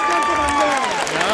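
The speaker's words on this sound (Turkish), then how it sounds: "Bir alkışlayın bakalım" A live audience bursts into loud, dense applause with cheering voices, a brief close roar of clapping and shouts.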